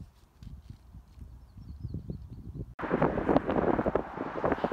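Wind buffets the microphone on a pedestrian bridge above Indian Battle Park with rough, gusting rumble, growing louder and harsher partway through, with no talking.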